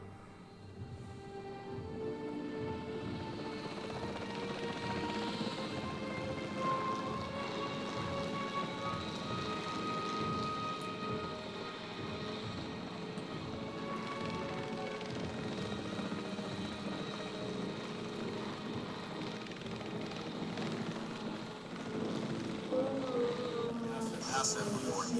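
A capture team helicopter in Jurassic World Evolution 3 gives a sustained rotor drone under game ambience and voices, holding a fairly even level for the whole stretch.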